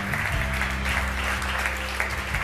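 Audience applause at an award ceremony for a corporate prize, a dense, steady wash of clapping filling the room for a couple of seconds over a low background hum.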